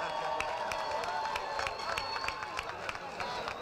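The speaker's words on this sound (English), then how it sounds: "Please give all of them a round of applause." Graduation ceremony audience applauding: dense, steady clapping from a large crowd with scattered cheers, continuous and fairly loud throughout.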